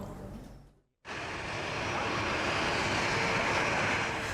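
An Indonesian police Boeing 737-800NG arriving in East Kalimantan: after a sudden cut, a loud, steady, broadband engine roar fills the scene without a break.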